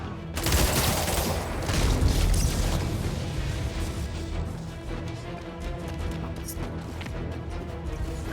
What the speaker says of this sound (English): They got rockets!